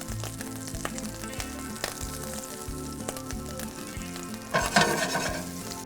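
Mushrooms fry in a pan with oil and butter, a steady close sizzle with stirring scrapes and a louder crackling burst near the end.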